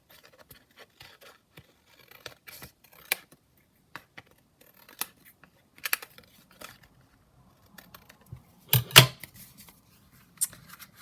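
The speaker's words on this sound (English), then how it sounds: "actually if I just trim it slightly more on this side" Scissors trim paper for a junk journal pocket and foldout, giving a series of short, close snips and rustles with quiet gaps, one louder crunching cut near the end.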